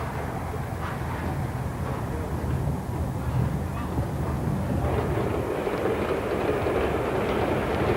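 Steady rumble and rattle inside a moving passenger train in Manchuria, travelling hard-class sleeper, a continuous close wash of wheel and carriage noise with no clear break.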